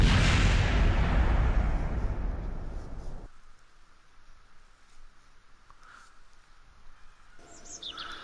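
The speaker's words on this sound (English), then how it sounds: "whenever you recover the vessel it always makes an explosion" An explosion as a vessel is recovered in Kerbal Space Program: a loud broadband blast that rolls on for about three seconds, then cuts off abruptly, leaving a quiet tail with faint chirps.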